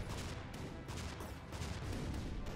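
Rapid bursts of shot and explosion effects from the artillery video game Shellshock Live, dense and noisy, overlapping in quick succession at moderate level with no clear gaps.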